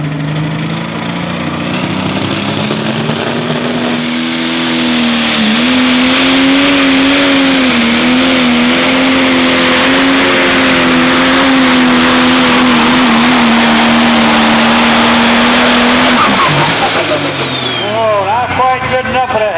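A 10,000-pound pro stock pulling tractor roars loud and continuous through a pull at a county fair in Warren, Illinois, its engine pitch holding then climbing and dropping near the end, with an announcer talking over it.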